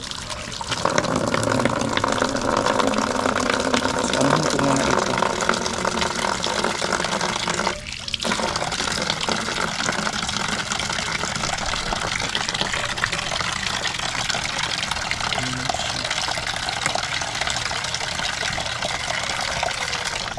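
Steady rushing water pours continuously, like a tap running, with a brief spoken remark over it.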